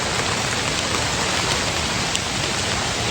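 Steady rain falls in woodland on public land during a wet deer hunt, a dense, even patter and hiss close by that runs unbroken throughout, with no voices.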